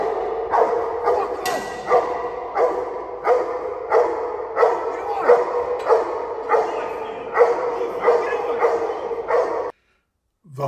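A police dog on a hold-and-bark command barks in a steady, rapid rhythm of about two loud, close barks per second, then falls silent.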